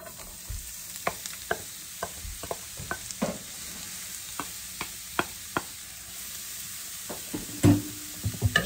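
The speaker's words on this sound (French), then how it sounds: "Dès que c'est chaud, je vais ajouter mon riz de chou-fleur." Cauliflower rice fries in a hot pan with a steady soft sizzle, broken by a string of sharp scraping stirs from a utensil, close and fairly quiet, with no talk.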